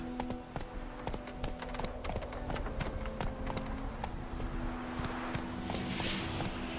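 Hooves of Roach, a horse in The Witcher 3: Wild Hunt, clopping in a fast, regular running rhythm, crisp and close over a steady background hum.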